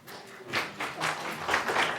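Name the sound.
audience clapping at a public meeting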